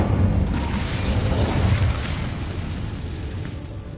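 Incendio fire spell cast in Hogwarts Legacy, heard as a loud, sustained roaring burst of flame and rumble that fills the whole stretch, easing slightly toward the end.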